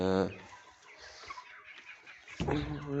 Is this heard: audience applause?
no